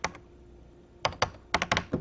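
Keys are pressed on an Amiga computer keyboard, a handful of crisp close clicks in quick clusters after a short pause, with no talking.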